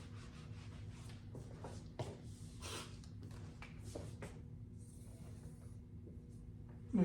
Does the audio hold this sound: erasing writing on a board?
yes